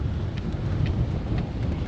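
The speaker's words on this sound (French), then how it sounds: "La pluie. Hein. Ouais, ça forcit." Rain from a tropical wave falls in a steady, dense hiss that keeps strengthening, with low wind rumble and buffeting underneath, close and continuous without talking.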